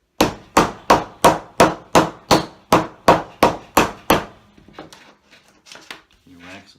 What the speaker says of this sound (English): With the hammer, or the mallet in this case, kind of press that down